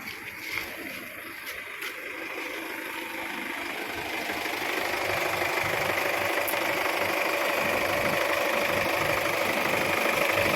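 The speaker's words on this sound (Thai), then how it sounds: "ไปฟังเสียงเครื่องยนต์พร้อมกันครับ" An Isuzu MU-X 2.5 diesel engine idling with a steady low rumble and faint knocking, gradually growing slightly louder and then holding constant.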